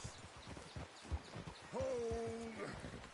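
A horse in Red Dead Redemption 2 clip-clops along and lets out a drawn-out whinny partway through, the hoofbeats soft and uneven beneath the game's ambient sound.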